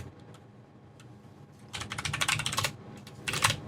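Linux commands being typed on a computer keyboard, a few scattered key taps and then two quick clattering bursts of fast typing, close and fairly soft.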